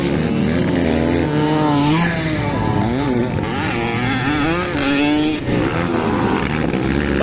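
Several 125cc enduro motorcycles racing at Lantapan, engines revving hard and wailing up and down in pitch, loud and close with overlapping buzzing exhaust notes and repeated throttle surges.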